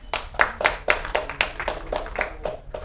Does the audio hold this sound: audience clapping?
yes